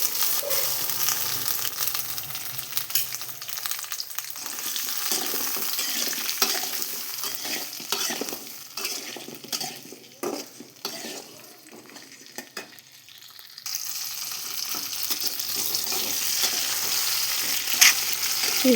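Halved green chillies fry in a little oil in a kadai on a gas stove, a steady close sizzle with scattered clicks of stirring, dipping briefly mid-way before the hiss returns strong.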